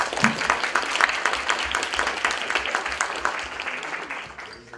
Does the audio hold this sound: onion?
no